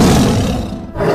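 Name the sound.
lion roaring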